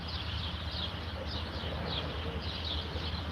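Birds chirping outdoors in the background, repeated high, faint calls at a loose, regular rhythm over a constant low noise floor.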